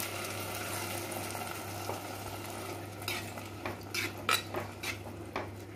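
Onions and tomatoes sautéing in a pan, with a steady low sizzle and utensil scraping and stirring against the metal, louder clinks toward the end.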